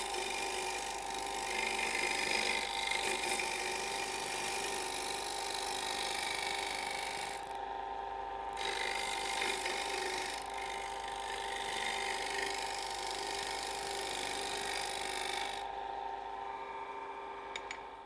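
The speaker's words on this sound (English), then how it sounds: "I like the draw cut for something like this because I can watch the shape of the bowl develop" A bowl gouge on a lathe makes a draw cut shaping a wooden bowl turned from firewood, giving a steady scraping, rushing hiss over the lathe's hum for around eighteen seconds with a few brief dips.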